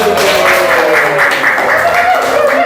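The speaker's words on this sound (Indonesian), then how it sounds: "Oke, tepuk tangan dulu." Schoolroom applause as students clap after a group presents class rules; loud, continuous clapping from a classroom of people with voices murmuring underneath.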